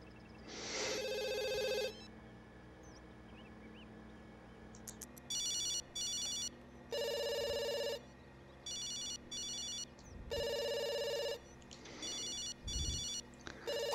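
Phone ringing in The Sims video game: repeated electronic ring bursts in an uneven pattern, each lasting about a second, loud and clear over soft game background sounds.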